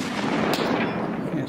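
Heavy gunfire in a video game, a dense, loud rattle of overlapping shots with one sharper crack partway through, continuous for the whole short burst.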